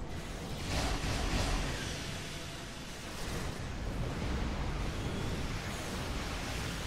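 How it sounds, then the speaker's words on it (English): A ship explodes in the space combat game Star Trek Online, a broad rumbling burst that swells twice and rolls on as a long roaring wash of noise, with no talk over it. "Oh, that explosion."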